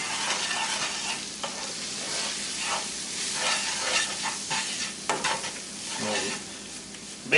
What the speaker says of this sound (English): I'm going to take a third cup of flour and stir that in.